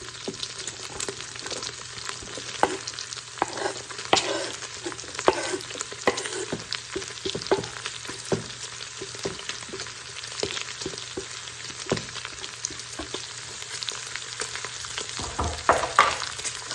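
Chopped onion and three cloves of garlic sizzle steadily in drained bacon fat inside an Instant Pot, a dense crackling hiss with occasional stirring scrapes and spatters running throughout.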